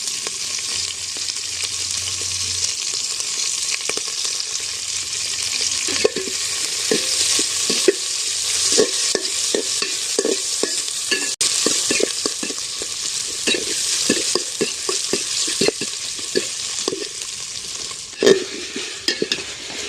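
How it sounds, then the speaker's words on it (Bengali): Eggplant and potato pieces sizzle in hot oil while a spoon stirs them for khichdi cooked outdoors in the cold, a steady close frying hiss broken by repeated scraping and clinking strokes. "ভেজে নিয়ে তারপরে আমি সবজিটা ভেজে নেবো। সবজি বলতে বেগুন, আলু এই সমস্ত ভেজে নেবো।"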